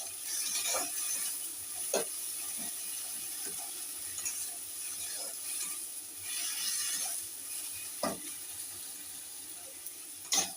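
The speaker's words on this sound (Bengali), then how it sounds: "টমেটোটা দিয়ে দিলাম একটা, দিয়ে আবার একটু নাড়বো।" Onion paste and tomato are stirred in a pan for fish curry, giving soft scraping and clicking spoon strokes at an irregular pace over a steady faint background hiss.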